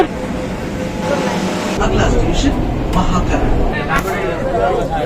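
Kolkata metro train pulling into a platform, a loud continuous rumble and roar that builds and swells, with people talking over it.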